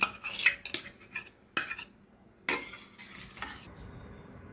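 A spoon clinks and scrapes against a glass of raw mango juice in several quick bursts of stirring, then fades to a soft hiss.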